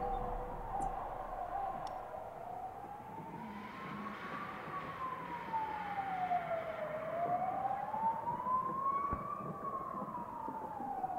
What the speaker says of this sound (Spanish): Una ambulancia por ahí.